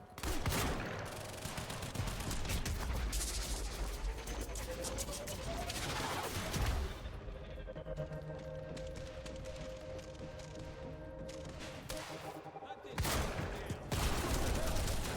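Gunfire from a weapon picked up in Quantum Break, dense bursts of shots and impacts early and again near the end, with a quieter stretch of game ambience between.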